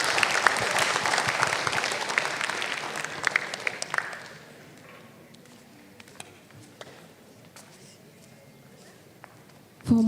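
Audience applause for speakers at an academic conference, dense sustained clapping from a sizeable crowd for about four seconds, then tapering to scattered claps and quiet room noise.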